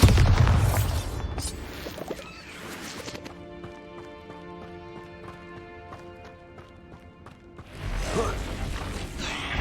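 A Bombarda blasting spell goes off in Hogwarts Legacy, a loud booming burst at the start, then a quieter stretch of game sounds before another heavy rumbling blast near the end.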